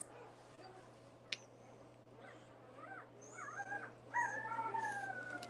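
Newborn Boerboel puppies at six days old whimper and let out thin rising howls, faint at first and building into a louder, sustained chorus of high wavering cries near the end over a steady low hum.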